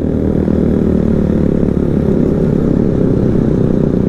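A Honda CBR150R motorcycle engine pulling uphill on a Sunday morning ride, its loud, steady drone with a dense low rumble and engine buzz running continuously from close range.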